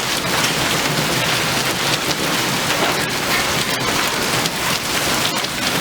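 Dense, steady patter of marble-sized hail striking a balcony nearby during a monsoon storm, a continuous loud clatter with no voices.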